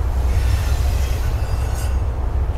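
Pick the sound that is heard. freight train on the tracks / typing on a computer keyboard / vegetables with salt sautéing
freight train on the tracks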